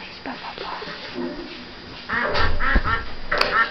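A duck gives a short series of loud, close quacks in the second half, following quieter sounds and faint voices earlier.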